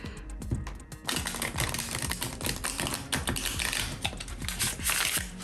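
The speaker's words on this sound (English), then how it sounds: "I still shuffle like this" Tarot cards being shuffled by hand in a loose, clumsy manner, a quick run of soft irregular taps and riffling clicks, close and fairly quiet, with no talking.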